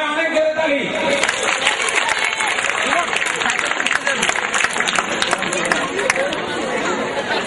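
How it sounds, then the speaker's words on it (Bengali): Audience at a national mathematical festival giving loud, dense applause, a sustained wash of clapping mixed with crowd chatter and voices. "সবাই অনেক জোরে তালি"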